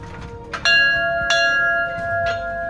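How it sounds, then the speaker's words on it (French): A bell struck at an outdoor community site surrounded by greenery rings out loud and close to signal a change of activity, with three clear strikes whose bright tones hang and overlap as they slowly decay. "vient sonner la cloche pour signifier à tout le monde que nous avons"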